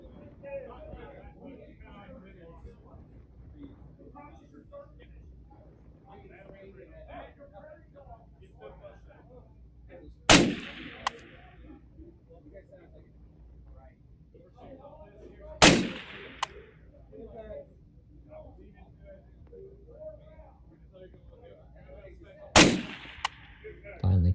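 Three sharp rifle shots ring out at long range toward steel targets set at 425 yards, spaced several seconds apart, while someone talks quietly throughout.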